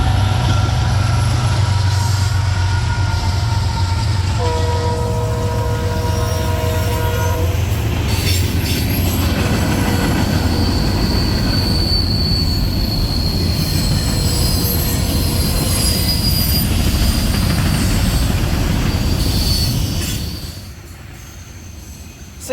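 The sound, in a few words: freight train passing, wheels squealing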